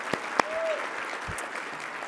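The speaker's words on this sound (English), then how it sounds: "A round of applause." A conference audience on digital inclusion offers a round of applause for a former program officer, a steady, moderate patter of many hands with a few sharper individual claps.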